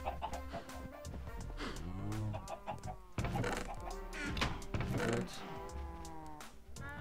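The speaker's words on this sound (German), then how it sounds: "Die Hühner bringen sich selber um dort oben." Chickens in the Minecraft video game cluck repeatedly, a busy overlapping run of squawking fowl calls, loud and close, continuing throughout with no talking.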